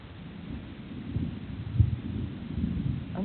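Thunder from a thunderstorm as a low, distant rumble that swells and rolls, with a sharper crack near the middle and soft rain-like noise underneath.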